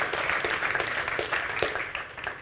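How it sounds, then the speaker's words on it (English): Audience applause at a marketing conference: a moderate, continuous patter of many hands clapping, with a few sharper claps standing out near the middle. "I'd like to start just by giving a huge round of applause to Sunir"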